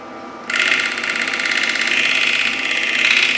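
Bowl gouge cutting into a small live-edge maple crotch log spinning on a wood lathe, a loud sustained buzzing hiss that starts abruptly and holds steady without pause.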